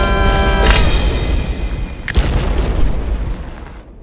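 Explosions in the video game Happy Wheels: a loud booming blast with a bright crackling burst, followed by a second sharp pop and boom, then a rumbling tail that fades out.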